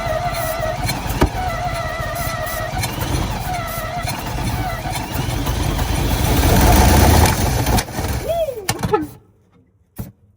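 A 1957 GMC 350 truck engine, long unused and full of transmission fluid, cranks and catches into a rough, loud, close running roar, then cuts off abruptly near the end; a voice speaks over it.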